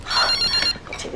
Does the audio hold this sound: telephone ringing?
yes